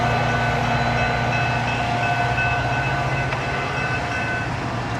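Passenger train rolling along rails heard from inside a car, a steady low rumble with a sustained whine and faint rhythmic clicking, moderately quiet and continuous with no talking.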